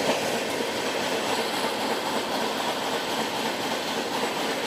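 A late-running high-speed train hauled by a WAP7 locomotive on the Vijayawada–Gudur–Renigunta route roars steadily from inside the coach, with continuous wheel clatter and faint squeal and no talk.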